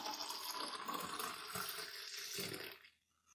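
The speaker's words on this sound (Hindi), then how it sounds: "अब हम इसमें 1 से 2 गिलास पानी के शामिल कर देंगे।" Water, one to two glasses, is poured into frothy fresh sugarcane juice, a steady close splashing rush that stops abruptly near the end.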